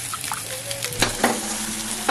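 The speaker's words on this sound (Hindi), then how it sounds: "देखिए हम अंडे को डाल चुके हैं कढ़ाई में।" Eggs fry in a kadhai with turmeric and salt, with a soft sizzle and a few scraping stirs and light clinks of a utensil against the pan.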